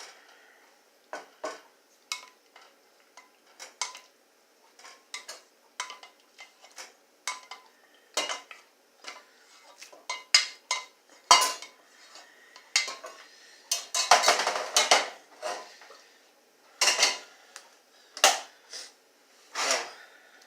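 Wheat noodles being laid into a serving dish for Mediterranean-style penne rigate, with irregular clinks of pots, dishes and cutlery, sparse at first and then busier, with a dense clattering burst midway, close by and with no talking.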